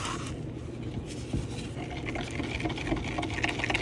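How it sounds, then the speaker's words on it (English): Pigment being stirred into resin for a satiny semi-transparent resin pumpkin, giving a steady close scraping and sloshing stir that runs throughout without speech. "I'm just gonna dump this into the resin and mix it up really well."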